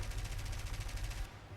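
Rapid automatic gunfire from an aircraft in the combat game War Thunder, a steady rattling stream of closely spaced shots at moderate level that stops abruptly near the end, with no talking.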